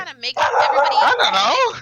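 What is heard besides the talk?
dog barking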